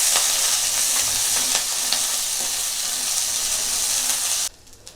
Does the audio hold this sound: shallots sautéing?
yes